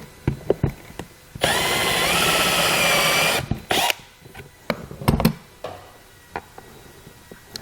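A power drill fitted with a step bit bores a hole while a Roadmaster FuseMaster fuse bypass is installed. The high, even whine runs for about two seconds, and scattered taps and clatter of handling come before and after it.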